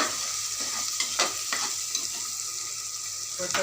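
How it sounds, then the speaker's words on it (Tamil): Green chillies with coriander and mint sautéing in oil for white veg pulao give a steady, close sizzle, broken by occasional scraping stirs. "எண்ணெயில் நல்லா வதக்கினா இந்த பச்சை வாசனை போயிடும்"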